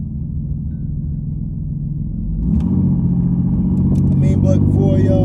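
Loud V6 engine of a 1989 Chevy Celebrity, front-wheel drive with a noisy exhaust, rumbling steadily and swelling louder midway as it picks up speed, heard from inside with some background voice.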